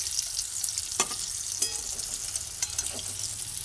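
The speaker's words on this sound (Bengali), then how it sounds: "একটা দিক ভাজা হয়ে গেছে নাকি দেখবো, দেখে" Taro dhoka cakes sizzle in hot oil in a pan, with a steady soft frying hiss broken by several sharp clicks and scrapes as the cakes are flipped one by one.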